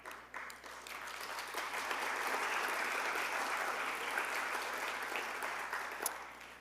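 Sustained applause from an audience at a lecture event on Matisse's Stations of the Cross in Vence, steady and dense throughout, with no speech over it.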